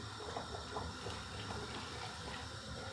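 Boiling water pouring steadily onto 40 grams of dry sage and onion stuffing mix in a bowl, a continuous soft watery rush lasting throughout at moderate level, with no talking.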